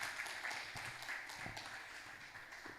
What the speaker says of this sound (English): Let us once again give a big round of applause to our panelists and moderator